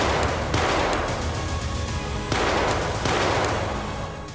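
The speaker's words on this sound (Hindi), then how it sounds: "दोनों तरफ से अब गोलियां चलती है।" Gunfire exchanged from both sides during a police encounter near the India-Pakistan border in Gurdaspur, heard as dense, loud overlapping bursts and shots that continue without pause, with no talk.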